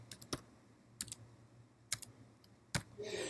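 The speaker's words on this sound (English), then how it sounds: "I can also type this in" Scattered, quiet clicks of keys on a computer keyboard while an answer is typed into a Moodle learning activity, a handful of sharp taps spaced apart, ending with a short burst of noise.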